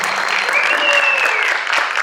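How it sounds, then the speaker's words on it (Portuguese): Audience applause in a hall after a post-screening talk, a dense, loud, steady wash of many hands clapping with a faint whistle-like tone running through it. "Pode dar palmas aí para ele."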